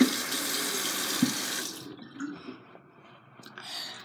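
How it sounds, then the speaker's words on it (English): Tap water runs steadily into a sink during a morning face wash, a loud broadband rush that eases off midway into quieter trickles and splashes. "I like to wash my face"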